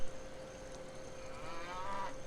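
A single drawn-out cow moo from the video game Civilization V, steady and moderately quiet, sitting over a soft game soundtrack with no talk.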